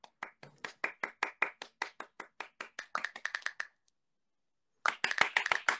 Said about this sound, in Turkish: alkışlayın Hüseyin'i